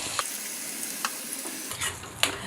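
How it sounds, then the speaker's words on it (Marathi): Ground masala paste roasting in hot oil for a Kolhapuri chicken rassa, a continuous close hissing sizzle with a few light stirring clicks, no talking. "हा मसाला जो आहे तो आपल्याला छान असा भाजून घ्यायचा आहे"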